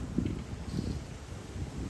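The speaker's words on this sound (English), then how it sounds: "You guys are probably going to hear the wind." Strong wind blows outdoors on a windy evening and buffets the microphone in low, rumbling gusts, with faint rustling, and no voices.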